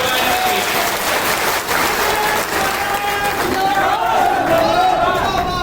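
A crowd claps in a continuous roar at a community gathering of the Khangar-Parihar society in Karera, with voices and chatter mixed in beneath the dense, sustained applause.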